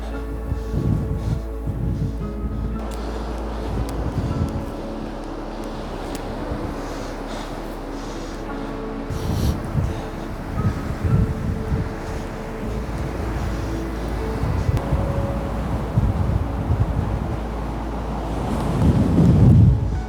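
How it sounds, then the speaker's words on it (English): Strong wind on a beach on Scotland's North East coast buffets the microphone in heavy, uneven low rumbling gusts, with a louder burst near the end; no voices. "If it wasn't super windy"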